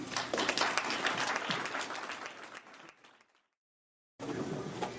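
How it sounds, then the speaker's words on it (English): An audience gives a warm round of applause in a hall, dense steady clapping that fades out, drops to silence, and then resumes abruptly. "Let's have a warm welcome and applause for Ryan Liesma."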